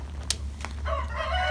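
On a farm visit with a Jersey cow, a chicken makes a couple of short sharp calls followed by a drawn-out crowing cry, moderately close, over a low steady hum.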